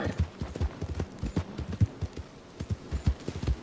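A horse's hooves clip-clop on a street in the Red Dead Redemption 2 video game, a steady, close, uneven trotting beat with no talking.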